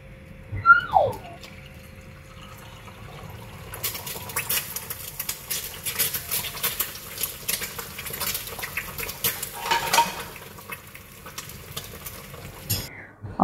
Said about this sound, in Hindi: यहाँ पे मैं इसलिए चुप हो गई थी ताकि ये जो आपको एग फ्राई हो रहा है इसकी थोड़ी सी मैं आपको आवाज़ सुनाऊँ